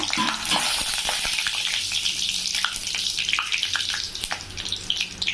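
Loud, continuous sizzling and crackling of cumin, stone flower and bay leaf frying in hot oil in a kadai, with a few stirring clinks, close up and without speech.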